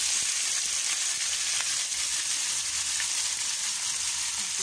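Chopped onion and herring frying in oil in a pan, a steady bright sizzle and crackle that holds at an even level throughout, close and alone with no voices.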